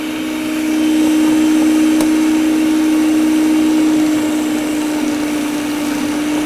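Electric hand mixer whirring steadily through room-temperature butter for oatmeal breakfast cookies, a loud continuous motor drone with a steady high whine, no talk.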